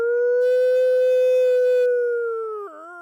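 A person imitates a wolf howl outdoors, one long sustained tonal howl that holds steady, then slides downward and wavers at the end, loud and close.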